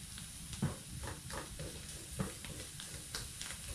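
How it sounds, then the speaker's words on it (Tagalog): Garlic and onion sautéing in a pan make a steady, faint sizzle with soft, repeated stirring strokes and occasional louder scrapes. "Dito na rin po natin igisa ang ating bawang at sibuyas."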